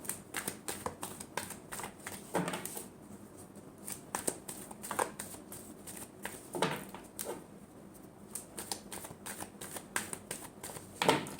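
Tarot cards are shuffled by hand in a quiet room, with quick riffling bursts and soft slaps coming in short irregular rounds.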